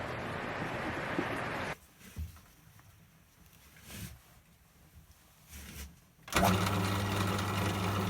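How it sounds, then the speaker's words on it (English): A Forstner bit cuts a flat into the back of a turned wooden Christmas ornament foot, giving a loud, steady whirring grind that drops away to quiet mid-clip before the cutting roar returns strongly at the end. "This is actually putting the flat on the back end of the foot. I'm using the Forstner bit to do that."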